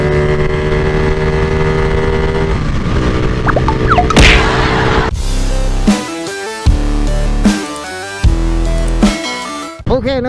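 A motorcycle engine pulls hard through the gears, loud and close, each gear rising in pitch before a short break at the shift, repeated several times.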